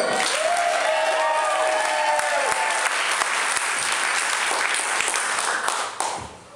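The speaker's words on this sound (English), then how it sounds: "Let's give a cheer for Alexandra." Loud, dense applause and cheering from a crowd at a Coney Island performance, welcoming a volunteer named Alexandra onstage, sustained throughout before tapering off abruptly at the end.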